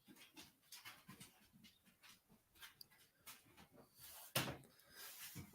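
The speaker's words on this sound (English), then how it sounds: "I got grand dogs running all over me." Several dogs pant quickly and shuffle around close by, with soft thumps and clatter from their movement and one sharp knock partway through.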